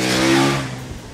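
A 2014 KTM 1290 Super Duke R engine revs up hard and close, then its loud, rough growl eases off over about a second.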